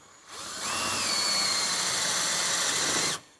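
A power driver with a 3/8-inch bit sinks a number 10 screw into a wall stud, giving one whirring, drill-like burst of about two and a half seconds whose pitch climbs slightly as the screw seats. It is heard alone, fairly close.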